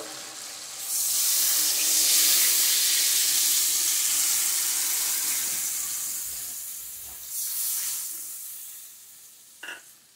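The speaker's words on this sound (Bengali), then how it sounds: "এবার আমি জল দেবো একটু" Water poured into a pan of eggplant curry, a loud hissing rush and sizzle that swells quickly, holds, then fades, followed by a brief second burst and a small clink.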